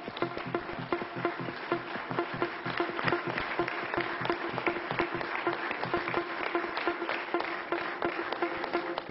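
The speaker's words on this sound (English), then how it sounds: "Big round of applause, ladies and gentlemen." Audience applauding at the Sports Illustrated India Sportsperson of the Year Awards 2011, sustained dense clapping from a large indoor crowd, steady and fairly loud for the full stretch.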